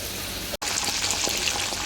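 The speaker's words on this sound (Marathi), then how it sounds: "मशरूम फ्राय करून घेते पहिला" Mushrooms fry in a pan with a steady, close, crackling sizzle that runs throughout, broken only by a very brief dropout near the start.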